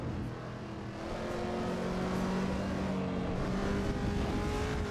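A Chevrolet Camaro ZL1 1LE engine in the Assetto Corsa Evo racing game holds high revs in a steady, droning howl that climbs slightly and stays loud and continuous.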